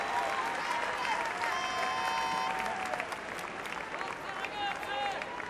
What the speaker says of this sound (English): The home fans cheering everything positive they get from their side.